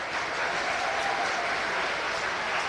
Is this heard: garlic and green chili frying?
no